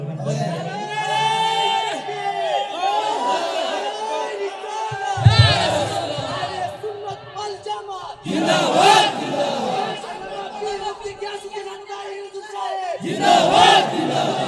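A large crowd at an outdoor Islamic sermon gathering in Chunarughat chants a religious slogan in unison, loud bursts of many voices rising and falling in waves between the preacher's amplified calls.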